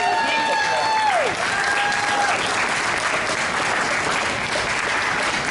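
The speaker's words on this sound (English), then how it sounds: "let's hear a nice round of applause" An audience at a Kids in Toyland awards presentation claps in a dense, steady round of applause that fills the whole stretch at even loudness, with a brief whistle-like tone near the start.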